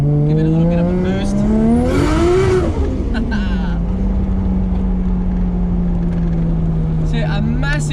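A Nissan RB25DET engine in a drift car revs hard with boost, rising to a loud peak near two seconds and then holding at a steady high drone, with voices faintly over it.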